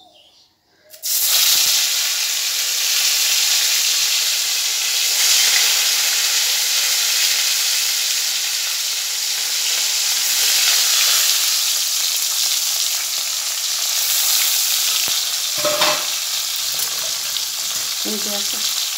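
Food frying in a pan with a loud, steady sizzle that runs without a break. A few brief clatters come near the end.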